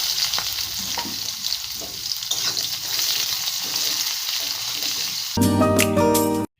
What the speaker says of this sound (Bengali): তেল আমার গরম হয়ে গেছে এর মধ্যে দিয়ে দেবো একটু পাঁচফোড়ন ফোড়ন তারপর পেঁয়াজ রসুন আর লঙ্কাটা